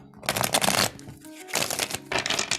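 Tarot cards are shuffled by hand in three dense riffling bursts, close and crisp, with short pauses between them and no talk.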